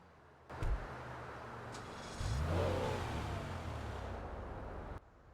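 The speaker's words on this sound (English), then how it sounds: "get a nice sort of stealth roar as the vehicle turns on" In GTA Online, a car door thunks, then the Pfister Comet S2 sports car engine starts with a rising roar that settles into a low, steady idle, fairly close, with no voices.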